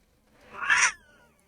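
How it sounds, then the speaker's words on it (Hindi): A single recorded house cat meow, short and rising then falling, heard alone against near silence. "ये तो बिल्ली की आवाज है।"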